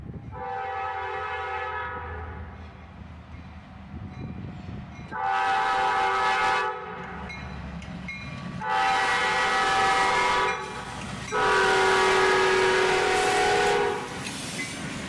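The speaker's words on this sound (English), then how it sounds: "we'd catch this train with CSX number 5 trailing, a very low numbered AC44CW still in Y&2 paint" A CSX freight train with a low-numbered AC44CW locomotive in Y&2 paint sounds its horn in several loud sustained blasts, separated by gaps filled with the rumble and rolling noise of the passing cars.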